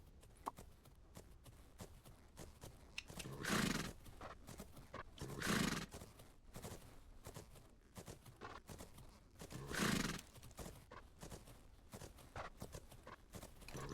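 Sunny, a horse in a horse-riding video game, canters with soft rhythmic hoofbeats, and three loud breathy snorts or whinnies burst out at regular intervals over the quieter gait.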